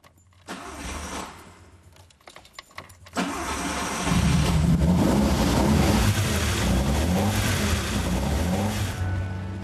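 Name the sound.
vintage Fiat Dino car driving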